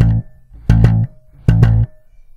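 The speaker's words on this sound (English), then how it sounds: "I'm going to show you how to perform something that I call a double slap stroke." Double slap strokes on a bass guitar: three short, loud, punchy notes, each a quick pair of percussive thumb hits on the same pitch, evenly spaced and played solo with no talking.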